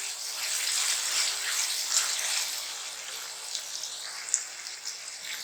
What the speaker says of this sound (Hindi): ये हमारा टमाटर प्याज हरी मिर्च फ्राई हो रही है